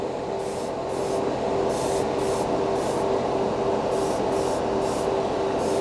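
An airbrush spraying Vallejo Premium paint onto polycaps gives a continuous close hiss with a steady hum under it and short, repeated bursts of brighter spray as the trigger is pulsed.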